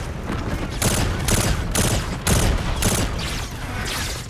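Rapid gunfire in Call of Duty: Infinite Warfare, a string of sharp, loud bursts in quick irregular rhythm, each shot cracking close up with a short rumbling tail.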